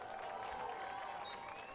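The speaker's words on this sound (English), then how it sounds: "Cardinals fans have had a lot to clap about today." Cardinals fans applauding in the stands at an NCAA Division III college football game, Otterbein versus Muskingum, a steady wash of distant crowd clapping with light cheering under faint background murmur.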